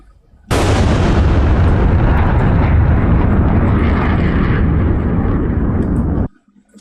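Jet engine roar of an F/A-18 Hornet in a combat flight simulator, starting abruptly, holding a loud, steady, broadband rumble for nearly six seconds, then cutting off sharply.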